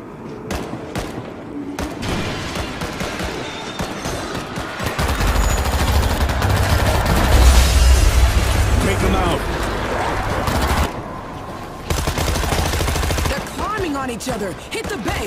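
Gunfire in the zombie shooter World War Z during multiplayer, with bursts of shots and heavy booms mixed into game noise, under frequent spoken character dialogue throughout.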